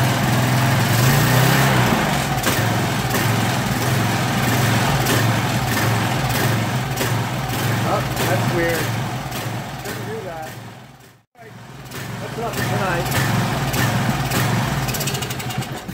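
A Briggs & Stratton OHV engine on a Craftsman 2700 psi pressure washer runs steadily and loudly up close, a continuous droning mechanical roar with a brief dropout near the end.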